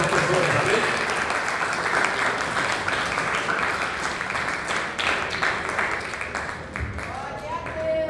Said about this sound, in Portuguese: Dê uma salva de palmas a Deus.